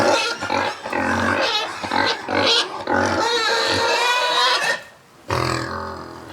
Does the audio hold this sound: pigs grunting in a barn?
yes